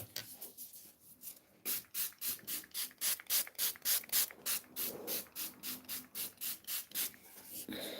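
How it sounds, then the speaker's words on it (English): Revolution Matte Fix makeup setting spray misted in a fast run of short pumped bursts, close to the listener with a steady hissing rhythm. "So I'll go ahead and use the Revolution Matte Fix"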